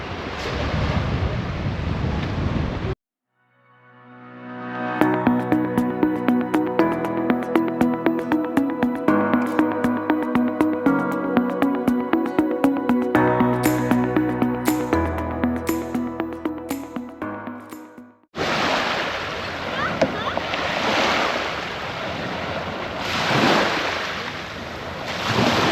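Waves wash over a small sand and rock beach beside Mumbles Pier with a broad, wind-buffeted rush that opens and closes the sequence, while music fills the long stretch in between.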